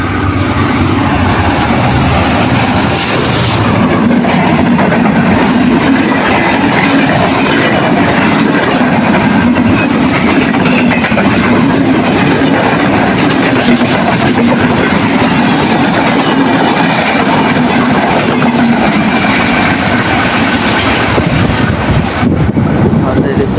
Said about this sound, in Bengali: দেখতে তো পাচ্ছেন ট্রেন যাচ্ছে।